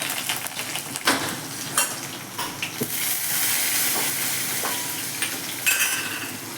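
A green chili and curry leaves sizzle in hot oil for a gram-flour pitla, a steady close frying hiss punctuated by stirring clicks and scrapes.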